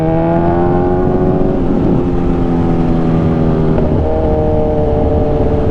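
Several loud sport motorcycles, including a Honda CBR600RR and a Kawasaki Z1000R, roar past one after another, their pitch sliding as they go by, with steady road noise underneath.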